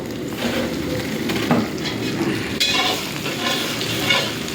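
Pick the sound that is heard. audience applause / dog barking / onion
onion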